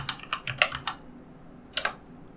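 Quick typing on a computer keyboard: a short burst of five crisp key clicks, a brief pause, then two more taps, close and clear with no talking.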